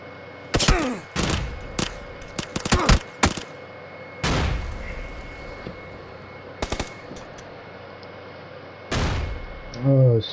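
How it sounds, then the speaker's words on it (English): Gunfire bursts and a heavy blast ring out during a video game firefight after a grenade is thrown, with loud broadband impacts scattered across the clip and some speech-like noise near the end. "He throwing a grenade."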